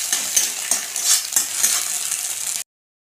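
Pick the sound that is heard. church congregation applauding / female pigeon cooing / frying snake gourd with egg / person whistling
frying snake gourd with egg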